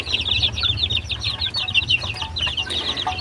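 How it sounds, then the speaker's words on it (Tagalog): Young Aseel chicks in a brooder, a dense chorus of close, rapid high-pitched peeps and chirps over a low background hum. "ipapakita ko sa inyo yung ating mga sisiyo"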